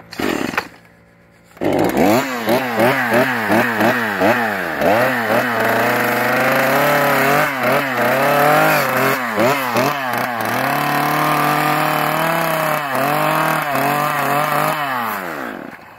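A chainsaw carves a wooden face sculpture, starting up after a short pause, then revving up and down in repeated bursts as it bites into the wood, loud and close, with a sustained high-speed stretch near the end.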